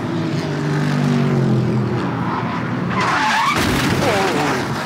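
A racing car roars past at high speed on a racetrack, then tires skid and there is a harsh scraping burst as it crashes, loud and close.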